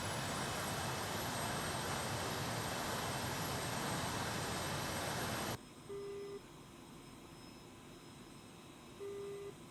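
An Su-25T jet taxis in DCS World, its loud, steady engine roar cutting off abruptly to a quieter hum, with short electronic beeps sounding twice afterward.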